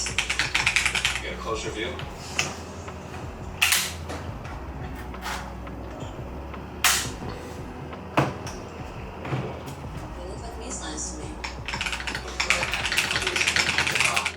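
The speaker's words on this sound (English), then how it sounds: "These offer a tactile and quiet typing experience without compromising on performance." Typing on a Razer BlackWidow V4 75% keyboard with Orange Tactile switches, a steady muffled run of keystrokes with a few sharper clacks, close up, under a brief spoken remark.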